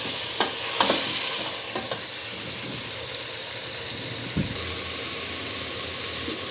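Meat sizzles steadily in a hot pan with a constant hiss, broken by a few clinks and scrapes of stirring.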